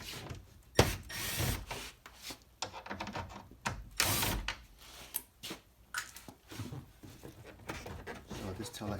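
Phillips screws are backed out of a 1994+ kouki-style tail light on a Toyota MR2 SW20, with close ratcheting clicks and scraping from the screwdriver in irregular bursts and some speech mixed in.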